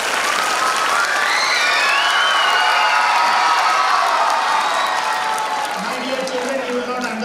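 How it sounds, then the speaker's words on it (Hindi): An audience at a school annual gathering claps loudly in a long, dense round of applause mixed with cheering and children's voices, easing slightly near the end. "मैं आपको प्लीज वंस अगेन ताली बजाना चाहता हूं।"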